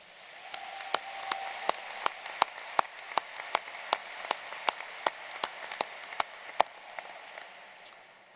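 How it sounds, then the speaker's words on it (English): Scattered applause at a spring university commencement ceremony: a modest crowd of separate claps, distinct and fairly sparse, each hand clap sharp over a quiet hall, thinning out toward the end. "Graduates, let's give all of them a round of applause."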